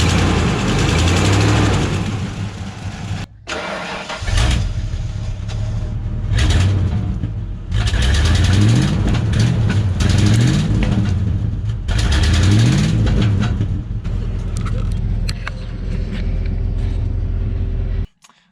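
A project truck's engine runs loud and close without an exhaust manifold or muffler, idling roughly and then revving repeatedly in rising bursts before cutting off.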